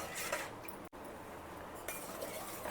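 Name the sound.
stirring custard powder mixture into milk with spoon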